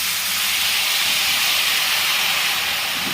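Washed phulki chhatu mushrooms hit hot oil in a wok, giving a loud, steady, bright hiss of sizzling that holds evenly throughout without talk.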